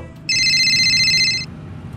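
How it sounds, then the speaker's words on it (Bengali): A single bright electronic phone ringtone sounds loud and close for about a second, a steady warbling tone that starts abruptly and stops cleanly, with quiet room noise on either side. "কথা বলতে বলতে খালেদের ফোন বেজে উঠল।"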